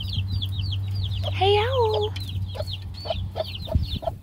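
Hens and chicks clucking and cheeping close by, a repeated chirping chatter with a louder squawk in the middle, and a voice speaking briefly over it.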